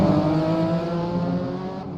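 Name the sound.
vintage race cars passing through a turn at Sears Point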